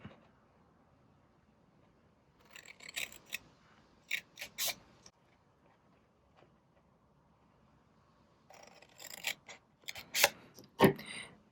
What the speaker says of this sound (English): we are just going to use paper snips